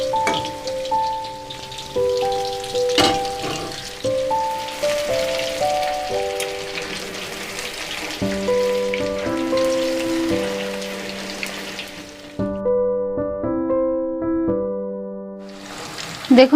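Fish fingers frying in hot oil, a dense rain-like crackle running continuously beneath loud melodic background music until it cuts out near the end.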